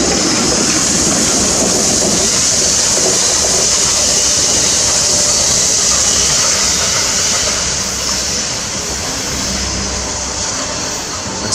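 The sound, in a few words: steam engine train locomotive running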